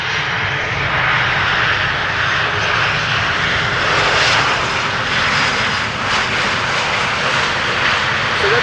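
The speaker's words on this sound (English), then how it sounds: "A220 Bulgaria Air having arrived from Sofia" A Bulgaria Air Airbus A220, just arrived from Sofia, rumbles loudly at Schiphol Airport, a continuous broad roar of jet engines that holds steady throughout and slowly swells, with no voices.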